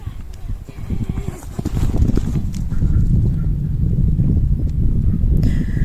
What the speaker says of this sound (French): cette séance était constituée de principalement des tours à fond au galop